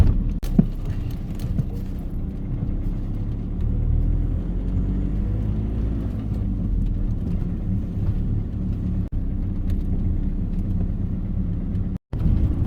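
A car drives toward a parking lot outside Palermo, Sicily, on a windy day, giving a steady, loud interior engine and road rumble that stays constant with a couple of brief dropouts.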